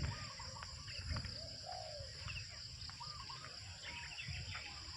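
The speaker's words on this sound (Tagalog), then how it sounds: "Ang daming huni ng mga ibon." Many birds call and chirp across a mountain forest around a large old century tree, with varied short whistles and coos scattered over a steady insect-like hiss and low rumble, moderately distant, no talking.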